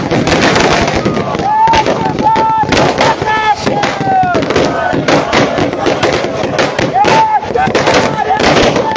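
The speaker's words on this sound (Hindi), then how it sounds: "और आप इस वक्त देख रहे हैं आतिशबाजी यहाँ पर छोड़ी गई है।" Fireworks set off at an outdoor political victory celebration in Solan: a loud, continuous barrage of crackling bursts and rising whistles with crowd noise and voices underneath.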